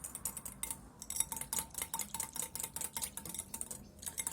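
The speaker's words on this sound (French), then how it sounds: "Secouez alors vigoureusement votre récipient." A container of oil and water is shaken hard, giving a fast run of rattling, sloshing clicks that repeat steadily and fairly faintly throughout.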